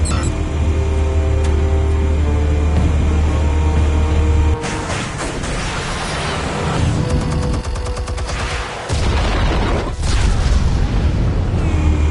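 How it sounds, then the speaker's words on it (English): Explosives detonating in Batman: The Telltale Series, a loud booming blast over a dense rumbling backdrop, followed by crackling debris and further heavy impacts, with no speech. "Explosives armed. Fire when ready."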